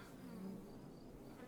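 Bees buzz steadily around a beehive in a deckbuilding roguelike game, a faint, continuous insect drone.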